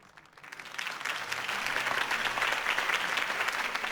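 A crowd at a campaign rally in Batman: The Telltale Series breaks into applause after a speech, swelling from quiet into a full, steady roar of clapping that holds to the end.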